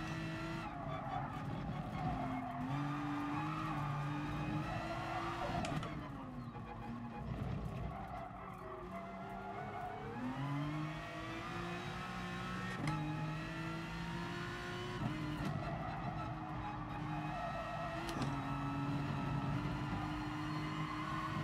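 An Aston Martin race car in the GT Sport video game, its engine note steadily rising and dropping through gear changes, with a brief tire squeal through a corner, continuous and fairly quiet.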